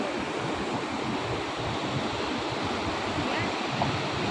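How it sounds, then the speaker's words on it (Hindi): The Pushpawati river rushes through a Himalayan valley near the Valley of Flowers, a dense, constant roar of flowing water with no break and no voices. "ये बह रही है पुष्पावती नदी"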